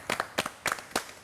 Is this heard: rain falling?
no